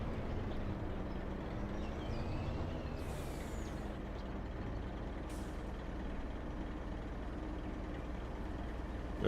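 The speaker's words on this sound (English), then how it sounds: "There goes the train." A train passing in the farming video game Farming Simulator 25, a continuous heavy low rumble with a steady mechanical drone and brief higher squeals, fairly loud and unbroken, with no talk.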